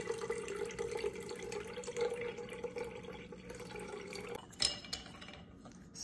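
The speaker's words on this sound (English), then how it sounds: "Now we're using a strainer on the top just in case grind got past the plunger." Cold brew coffee is poured through a strainer into a separate container, making a soft steady trickle of liquid with light clinks of metal and glass, quiet and close, with a brief splash near the end.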